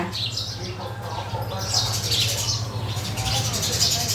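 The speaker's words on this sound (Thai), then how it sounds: "เสียงจุ๊บจิ๊บจุ๊บจิ๊บจุ๊บจิ๊บค่ะเขาช่วยแม่ขายของค่ะ ค่ะนกกระจิบนกกระจอกค่ะนกกระจิบค่ะ" Small birds, tailorbirds and sparrows, chirp and tweet in quick, high, scattered bursts at moderate distance over a low steady background hum.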